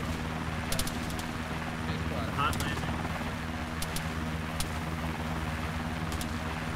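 Helicopter from the Arma 3 military game, a steady droning rotor and engine hum running throughout, heavy and continuous, with a few sharp clicks on top and voices talking over it.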